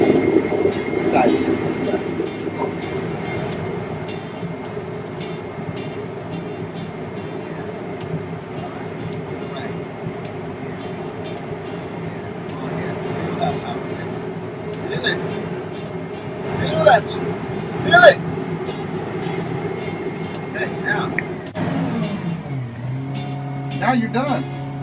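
A tophandler container handler's engine drones loudly and steadily while side shifting, with louder roaring surges near the end and someone talking over the machinery.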